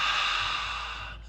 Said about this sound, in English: Ujjayi breath. Inhale for 5